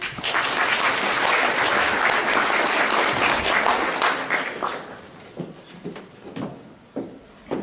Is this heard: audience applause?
yes